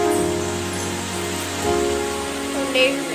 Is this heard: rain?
yes